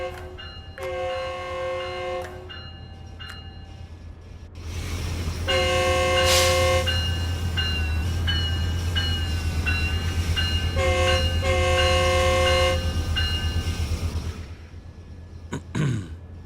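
A passenger train on the Antelope Valley Line in Train Sim World 4 sounds several long multi-tone horn blasts in separate groups over a steady low diesel engine drone, ending with a brief rising squeal.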